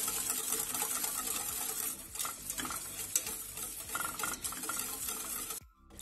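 A spoon stirs beer jam as it comes to a boil in a pot, the sugar dissolved. Close, repeated scraping strokes ride over bubbling and sizzle, then the sound cuts out abruptly near the end. No one speaks.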